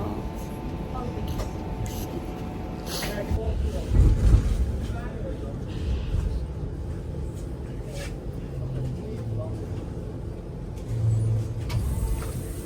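Interior of a moving streetcar on a cherry blossom outing, with a steady low rumble of the ride, occasional clunks and rattles, and people talking over it.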